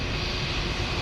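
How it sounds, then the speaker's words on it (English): Loud, dense roar of aircraft engines running on an airport ramp, a continuous broadband wash with no pauses, close by and alone. "With these loud engines"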